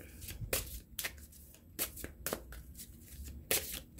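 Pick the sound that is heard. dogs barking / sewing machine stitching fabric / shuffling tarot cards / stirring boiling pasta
shuffling tarot cards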